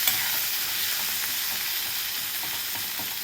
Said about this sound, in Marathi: टोमॅटो पण चांगला आपल्याला कांद्याबरोबर भाजून घ्यायचा आहे मऊ होईपर्यंत